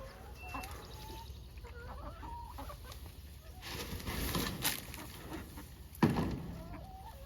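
Chickens cluck and murmur around a farm chicken coop, their soft calls scattered over a faint background, with a few louder shuffles and a sharp knock near the end.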